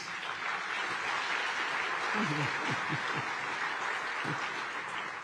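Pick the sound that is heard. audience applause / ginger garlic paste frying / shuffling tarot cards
audience applause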